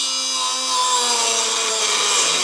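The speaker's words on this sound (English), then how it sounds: "Just got to get in here with the Dremel." A Dremel cuts through the metal roof of a rare Audi TT Open Sky concept car, a loud, close, continuous high whine with a steady grinding rasp and no pauses.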